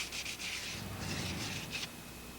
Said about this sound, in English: Then take a piece of emery cloth and lightly sand the inside of the cylinder.